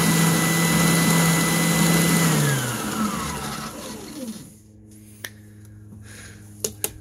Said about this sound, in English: if you don't know what an oscillating spindle belt sander does.